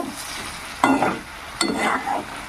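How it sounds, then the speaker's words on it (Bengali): Pointed gourd and potato pieces sizzling in a pan, interrupted by loud scraping bursts as a spatula stirs them twice, no speech. "আর একটু পটলগুলো ভাজা হবে"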